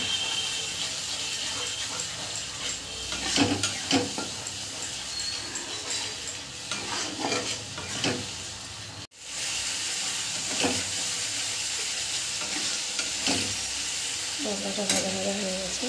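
A fried spice paste of garlic, ginger and cumin sizzles steadily in a hot pan, with frequent scraping and clattering stirs close up and a brief cut midway.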